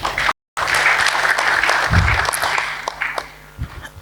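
Audience at a launch event in Ghana applauding to welcome the Queen of Yagbon Kingdom, steady clapping that cuts out briefly near the start, then carries on and slowly thins.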